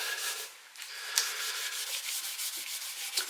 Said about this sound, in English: I want to rub off all the excess that there is which hasn't been absorbed into the wood.